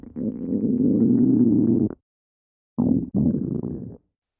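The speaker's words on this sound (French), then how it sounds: "Quand ça gargouille et que ça fait des glouglous d'enfer." Close, loud gurgling of a rumbling stomach: one long bubbly rumble, a brief silence, then two shorter rumbles back to back.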